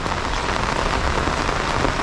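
Heavy rain pours on a muddy rural village road, a dense, even hiss of drops that holds steady and loud throughout, with no voices.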